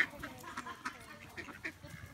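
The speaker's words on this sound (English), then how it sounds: "Little duck, little duck, little ducky duck." Ducks being fed at a zoo give repeated quacks and honking calls, faint and scattered at a short distance, with several birds calling over one another.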